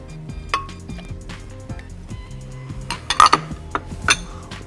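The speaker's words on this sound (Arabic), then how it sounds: "على طول كده هنزل بالتلج" Ice cubes clink and rattle into a glass while an orange and tangerine cocktail is made. Several sharp, bright knocks sound close up and unevenly spaced, with a louder cluster near the end.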